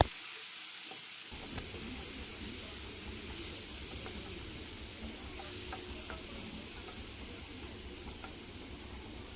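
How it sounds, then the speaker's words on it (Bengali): Garlic and tomato spice paste frying on a medium flame, a steady close sizzle with stirring scrapes, after a brief quiet start, for a Bengali fish curry. "মিডিয়াম ফ্লেমে এই মশলাটিকে ভালো করে কষাতে হবে, যাতে রসুন ও টমেটোর কাঁচা গন্ধটা চলে যায়।"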